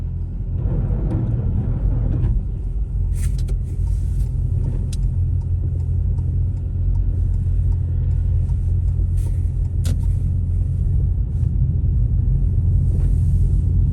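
A car drives through Vantaa city centre in Finland, with a steady loud engine and road rumble throughout and occasional brief clicks and ticks inside the cabin, no talking.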